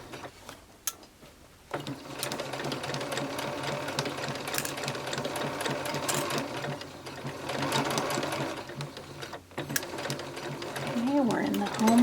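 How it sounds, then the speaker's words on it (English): A domestic sewing machine runs slowly over gathering stitches on a cotton shirtwaist, a steady close mechanical whir and rapid needle clatter that continues with a couple of brief stops, while a voice talks faintly underneath. "Approaching the gathering stitches, so I'm going to go slow so I don't catch anything"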